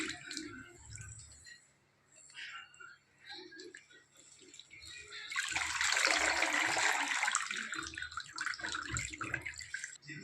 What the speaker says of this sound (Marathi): हे बघा दोन पाण्याने धुवून घेतले